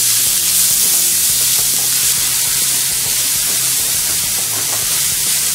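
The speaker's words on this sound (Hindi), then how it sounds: "ऑयल पे हम पहले ये हरी मिर्च डालेंगे ऑयल में। इसके साथ ये प्याज डालेंगे।" Green chillies and onion sizzle steadily in a tablespoon of hot oil, a close, continuous frying hiss with faint scrapes of stirring running throughout.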